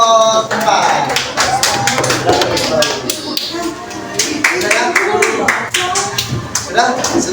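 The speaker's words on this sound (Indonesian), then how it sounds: "Kita beri tepuk tangan untuk kelompok 4." A classroom of students claps for a group, loud and close, with rapid uneven hand claps running throughout and voices mixed in.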